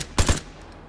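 Two loud gunshots ring out in quick succession from the video game Vigor, a short burst followed by a quiet tail with no talk.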